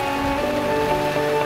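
A dense, steady wash of monsoon rain pouring down over a surface, continuous and fairly loud.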